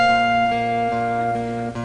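A small elevator chime from a Woolworth store, recreated in a song as a steady sustained tonal chord with layered bright harmonics, held at even loudness for a couple of seconds with no voices.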